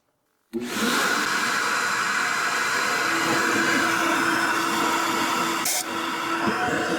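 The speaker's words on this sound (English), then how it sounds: "now let's turn on our vacuum and start blasting" A walnut blasting machine switches on abruptly with its vacuum running, cleaning carbon from a Mercedes Metris's intake valves, with a loud, steady roar and hiss, briefly dipping near the end.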